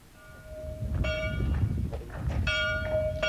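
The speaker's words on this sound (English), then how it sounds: "The bells of Southend Parish Church called villagers to their regular Sunday worship" Church bells of Southend Parish Church in Scotland ring out for Sunday worship, clear sustained tolling strikes returning at intervals over a low rumbling background.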